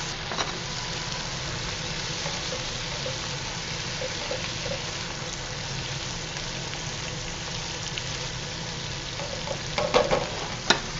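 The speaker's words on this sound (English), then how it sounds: "So I'm gonna add some butter to the pan." Butter melts in a pan for chicken piccata, giving a steady even sizzle and crackle heard close throughout, with a few sharper pops near the end.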